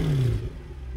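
Mercedes C63 AMG Affalterbach Edition exhaust, recorded from very close, gives one quick rev whose pitch drops and settles back toward idle within a second.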